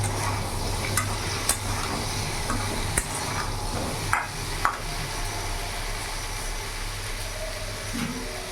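Green chilies, cut and torn, fry in a pan for a jackfruit-seed vegetable curry, giving a steady broadband sizzle with a constant low hum and a few sharp clicks of stirring.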